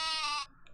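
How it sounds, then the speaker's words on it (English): The sheep weapon in Worms Armageddon gives a single short, bright, nasal cartoon bleat, loud and close, that cuts off abruptly and is followed by a faint trailing blip. "sheep"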